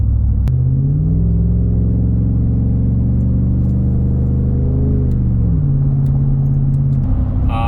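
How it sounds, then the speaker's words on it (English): A pickup truck's exhaust rumbles loud and close with no talk. The deep engine drone climbs in pitch at first, holds steady, then drops back as it settles. "It's a love-hate relationship I have with my truck's exhaust."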